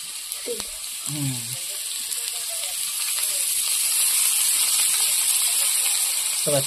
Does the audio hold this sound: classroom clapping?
no